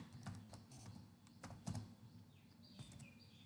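Someone types a Python program on a computer keyboard, with faint, quick, irregular key clicks over a quiet room and soft bird chirps in the background.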